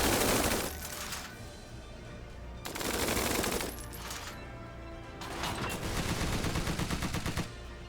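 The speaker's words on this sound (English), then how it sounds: "All units, open fire!" Unit gunfire in the Tiny Metal strategy game: three loud bursts of rapid machine-gun and rifle fire with short quieter gaps between them, close and harsh.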